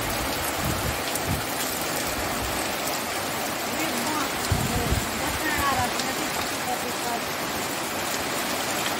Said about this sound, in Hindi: यहाँ पे देखिए बारिश हो रही है बहुत तेज़ से